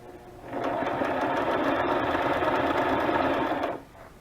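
A sewing machine stitches back over a zigzag seam on fabric scraps, a steady close mechanical whir that runs for about three seconds before stopping, with no talking.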